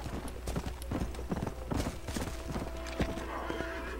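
A horse in the video game Red Dead Redemption, attacked and killed by a puma, with hoof clip-clops, scuffling thuds and a whinny, fairly quiet and close, in a brief busy burst.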